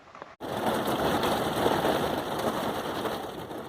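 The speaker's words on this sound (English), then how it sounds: "We're having a bit of a rain and windstorm" Steady rain and gusting wind at a solo camping spot make a loud, dense hiss that starts abruptly after a brief quiet moment and keeps going without a break.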